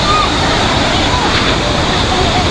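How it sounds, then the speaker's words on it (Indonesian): Heavy floodwater from a river swollen by torrential rain rushes and churns in a steady, loud roar over a road and through a residential area, a dense continuous wash with no breaks. "Derasnya air sungai meluap hingga ke permukaan jalan dan permukiman warga."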